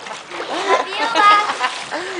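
A child splashes in a swimming pool with quick bursts of slapping water, close by and mixed with children's voices.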